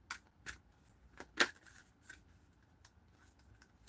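Tarot cards being shuffled: a few quick, crisp riffling snaps and flicks, one sharper burst near the middle, then lighter scattered ticks, close and quiet.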